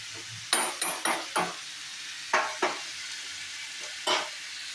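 Snail and poppy-seed paste curry cooking in mustard oil with salt, a soft background sizzle broken by repeated sharp spoon scrapes and clacks against the pan, close and clear.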